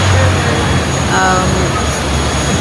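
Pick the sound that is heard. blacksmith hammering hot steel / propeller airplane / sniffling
propeller airplane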